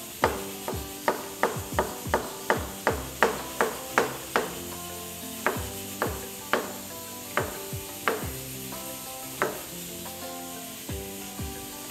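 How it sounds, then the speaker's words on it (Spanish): A knife chops onion on a cutting board during a seafood cooking showcase, a quick steady run of crisp close chops that slows into sparser, scattered cuts toward the end. "Entonces vamos a proceder a picar un poco de cebolla."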